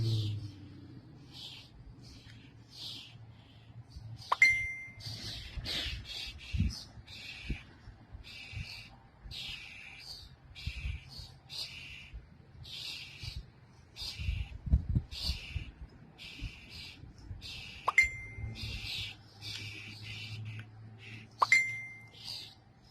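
A phone's notification chime rings out three times, sharp and bright, during an outdoor dig, with birds chirping repeatedly and scraping and shuffling noises in between.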